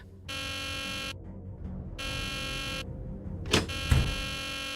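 A harsh electronic alarm buzzer in the video game Nancy Drew: The Deadly Device blares in long on-off bursts, loud and close, followed by a couple of sharp thuds near the end.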